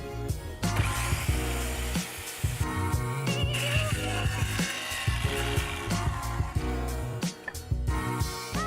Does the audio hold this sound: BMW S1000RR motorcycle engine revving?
no